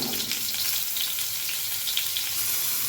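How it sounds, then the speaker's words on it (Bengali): Pointed gourd pieces frying in oil, unturmericked, give a dense, steady sizzle with soft crackles, close and continuous with no voices. "পটলটা ভালো করে লাল লাল করে ভেজে নেব।"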